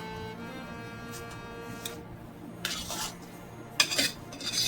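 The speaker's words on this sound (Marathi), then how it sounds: "आता ही चांगली आपल्याला मिक्स करून घ्यायची" Spoon scraping and clinking against a pan as powdered sugar is stirred into a saffron peda mixture, soft irregular scrapes with a few sharper metallic knocks near the end.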